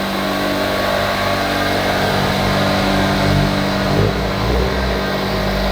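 A stock Subaru WRX hatchback with the EJ255 engine and five-speed gearbox runs on a dyno, giving a loud, close, sustained engine drone with a slight shift in pitch near the end.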